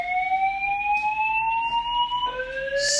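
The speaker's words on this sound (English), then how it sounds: "The fire alarm." A barracks fire alarm sounds continuously and loudly, a steady two-tone electronic wail with rising pitch, and a shift to a lower tone partway through, with no voices over it.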